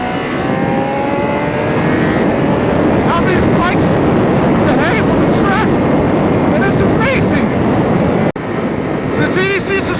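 A BMW HP4 motorcycle cruising around a race track, a loud steady engine roar with rising and falling revs, heard close from the bike with wind noise throughout.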